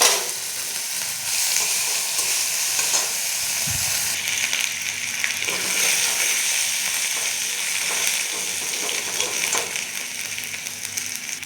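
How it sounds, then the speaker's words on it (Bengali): Dried chilli, bay leaf, cinnamon, cloves, cardamom, cumin and ginger paste frying in hot oil, a close, steady hissing sizzle with occasional spatula scrapes and a brief low knock, no talk. "তেজপাতা, দারচিনি, লবঙ্গ, এলাচ আর সাদা জিরে ফোড়ন দিলাম"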